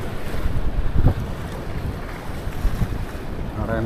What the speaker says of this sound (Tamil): காற்று வேறு பெரிய பிரச்சனையாக இருக்குது